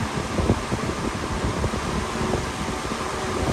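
A Dayton box fan runs on medium speed, blowing straight at the microphone and producing a loud, steady roar of rushing air with wind buffeting throughout.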